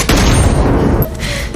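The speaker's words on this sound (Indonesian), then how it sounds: "Levy datang dan melepaskan tembakan akurat ke makhluk itu hingga roboh" A single loud gunshot boom fired at a creature in an action film, with a heavy blast and rumbling tail that fades over about a second, followed by quieter scene ambience.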